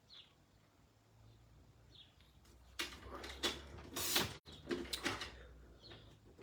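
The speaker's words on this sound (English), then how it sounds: "we're going to take the trimmer that I had just a moment ago. And I'm going to cut this into 4 3/4 inch strips" A paper trimmer cutting a sheet into 4 3/4 inch strips, several quick sliding swishes of the blade in a burst near the middle, close and crisp, after a quiet stretch with faint background chirps.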